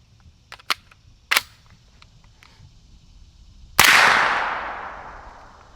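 A few sharp clicks and cracks followed by one loud, sharp supersonic rifle shot through a small AB Suppressors F4 suppressor, trailing off in a long echoing decay outdoors.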